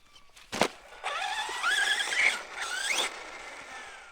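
Traxxas Slash 4x4 RC car on stock gearing with a 13-tooth pinion and 54-tooth spur gear, making a speed pass across a parking lot: a sharp click, then a high electric motor whine that climbs in pitch, fairly faint and distant.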